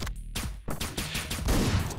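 Rapid bursts of gunfire from the video game Hotline Miami crowd together in a dense, loud, crackling barrage lasting about two seconds.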